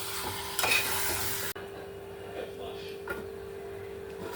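Chicken coated in spice paste fries in a pan with a soft continuous sizzle and occasional stirring scrapes. A brief louder burst near the start drops away sharply, then quieter frying continues.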